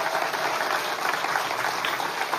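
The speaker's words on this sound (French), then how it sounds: "on peut les applaudir, on peut les encourager" Steady applause from a large congregation at a Sunday church service, a dense continuous patter of clapping throughout.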